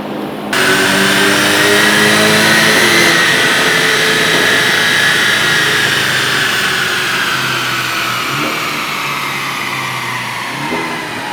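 A Volkswagen MK8 GTI with a stage 1 tune revs hard on a dyno, a loud sustained engine howl climbing steadily in pitch over several seconds before easing off, with brief gear-like dips near the end.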